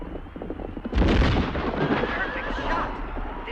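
A gunshot at a horseback shooting tournament, with a sudden loud boom about a second in that rolls into a sustained echoing rumble over faint background sound.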